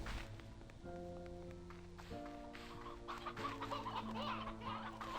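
Chickens clucking in the farming game Slime Rancher 2, several birds giving repeated short clucks over a bed of steady tonal game music, fairly close and clear.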